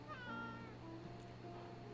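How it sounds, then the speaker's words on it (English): A cat meows in the video game Life Is Strange True Colors, one drawn-out, rising and falling call near and clear over a quiet background hum, with no one talking. "Should I get my cat?"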